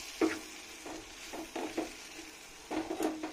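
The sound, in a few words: stirring chili powder into bottle gourd curry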